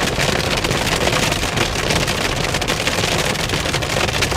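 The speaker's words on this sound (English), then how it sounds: "It's amazing, the whole road is covered with this hail." Hail drums densely and steadily on an all-wheel-drive Mercedes C-Class driving along a hail-covered road, a loud, continuous broadband patter with rushing wind and road noise and no talking.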